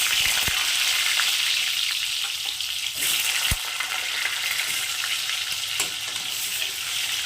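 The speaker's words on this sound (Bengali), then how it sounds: "তেল গরম হয়ে গেছে। এবার এর মধ্যে দিয়ে দিয়েছি আলু।" Potatoes frying in hot mustard oil, a loud, dense, continuous sizzle close up with a few sharp clinks of a utensil against the pan, no voices.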